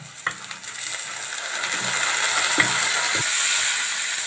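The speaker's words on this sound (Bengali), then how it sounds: "শাকগুলো নেড়ে ফেড়ে পেঁয়াজ রসুনের সঙ্গে মিক্স করে নিব" Radish greens are stir-fried in a pan with onion, garlic and green chilli, a loud continuous sizzle with a few clattering scrapes of the spatula near the start and middle, close up and without speech.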